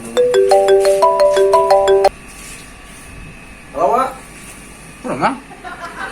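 A mobile phone ringtone plays a bright, repeating melodic pattern of beeping notes for about two seconds, then stops, leaving quieter background sounds and voices.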